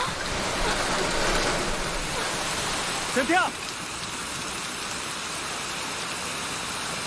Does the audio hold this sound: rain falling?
yes